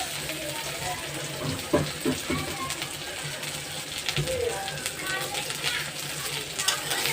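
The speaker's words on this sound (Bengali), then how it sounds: "পেঁয়াজ আর মরিচ লাল লাল করে ভেজে নিয়েছি" Chopped onions and green chilies fry in hot oil in a pan, a steady sizzle with occasional scraping stirs, while a person talks over the cooking.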